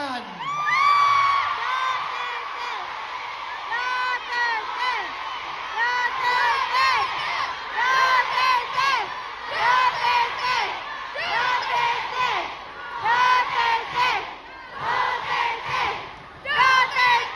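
A large crowd of Hong Kong OFWs at a rally shouts and cheers in repeated surging waves, whoops and yells rising and falling loudly with brief dips between bursts.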